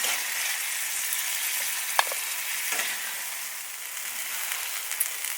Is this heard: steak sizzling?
yes